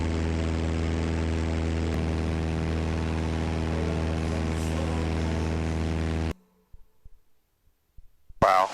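Small propeller airplane cruising into a strong headwind, a loud, steady engine drone with a rhythmic prop beat that cuts off abruptly, leaving near-silence broken by faint knocks and a brief closing noise.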